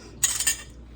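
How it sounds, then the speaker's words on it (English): A metal Dutchman canning lid is picked up with a short, bright metallic clink and rattle, a few quick taps close by in an otherwise quiet room. "I'm going to get out one of my Dutchman lids"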